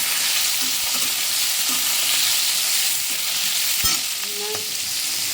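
Soybean chunks fry in hot oil in a home kitchen, a continuous broad sizzle with occasional scrapes and taps of a spatula against the pan, close and steady with no voices.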